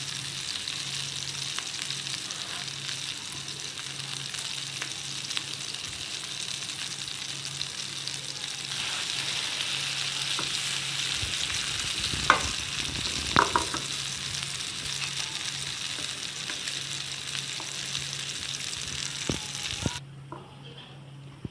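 Crispy vegetable kababs shallow-frying in a little oil, a continuous close sizzle with a few utensil taps and scrapes, ending abruptly near the close.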